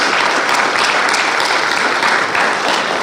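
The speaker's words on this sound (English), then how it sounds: "Can we give Dr. Ross another round of applause for that" An audience gives a dense, loud round of applause after a speech, a continuous clapping roar that holds steady throughout.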